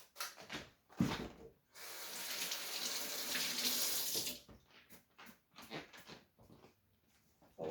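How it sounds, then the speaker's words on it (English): Tap water runs steadily into a sink for a few seconds while hands are washed after handling raw eggs for a pumpkin pie, with brief splashes and clatter before and after the flow. "Always wash your hands after you handle the eggs."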